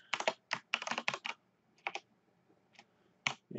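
Bursts of computer keyboard typing, close and crisp, with rapid keystrokes at first and then scattered single taps separated by quiet gaps.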